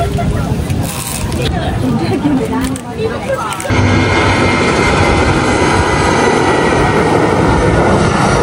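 A loud, steady airplane engine roar fills the scene, with a crowd murmuring beneath it throughout.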